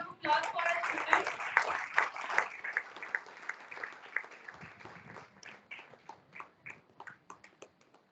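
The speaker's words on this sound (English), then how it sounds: "Let's have a big round of applause for our students." Audience applause for students at a university valedictory function, starting as a dense burst of clapping that thins into a few louder, scattered claps.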